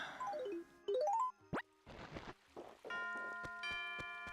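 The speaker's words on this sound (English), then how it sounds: "And there's the midnight bell." Animal Crossing's midnight bell chime plays as a bright, ringing melodic jingle with rising and falling tones, some plopping game sounds, and a layered bell chord at the end, with no talk.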